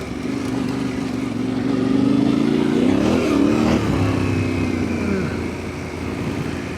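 An adventure motorcycle with more power than a 300 accelerates along a bush trail through pine plantations, its engine droning steadily loud and close with throttle rising and easing over the stretch.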